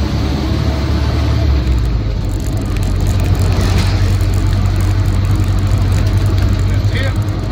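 A Land Rover Lightweight Air Portable engine drones steadily and loudly from inside the cab while driving, a continuous low rumble that holds even throughout with no clear shifts.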